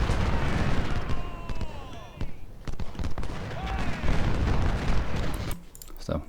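Cannon artillery fire in Ultimate General: Civil War, repeated booms and sharp reports scattered through a busy battle mix, with someone talking over the action.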